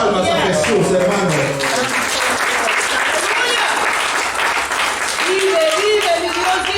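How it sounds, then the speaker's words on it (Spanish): A church congregation applauding loudly and steadily, a continuous wash of clapping with voices and shouts rising over it. "Dale una ofrenda de palmas a Jesús, hermano."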